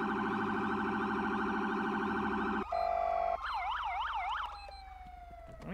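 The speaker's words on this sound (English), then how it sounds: "And so now you've got all these different sirens in here." Electronic sirens cycle through several patterns: a rapid yelp, a steady two-tone blare, then a wavering wail, loud and close, ending in a falling tone.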